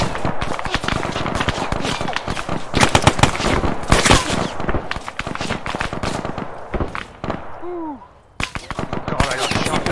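Dense machine-gun and rifle fire crackles through a WWII tank-battle video game at Kasserine Pass, bursts overlapping nonstop at close range, with a falling shell whistle near the end and a brief lull before shooting resumes.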